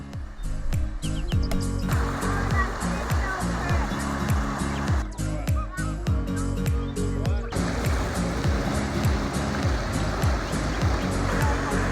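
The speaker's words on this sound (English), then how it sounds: "some smaller waterfalls that we could play in" Steady rushing water from small waterfalls into a swimming hole fills the scene, a continuous splashing roar close by, with faint bird chirps and small knocks over it.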